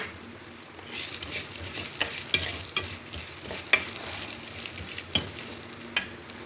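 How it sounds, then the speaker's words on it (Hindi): Four-seed mix (char magaz) dry-roasting in a pan for panjeeri, with a soft crackling patter and occasional sharp spatula taps and scrapes over a low, even hiss. "अब आप इसके अंदर 4 मगज़ डाल दें, इनको भी अच्छी तरह भून लें।"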